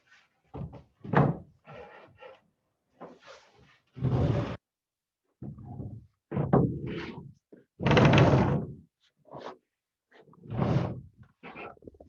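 A door being handled and hung on its jamb in a carpentry class, with a series of separate wooden thuds and knocks spaced irregularly, close and fairly loud against a quiet room.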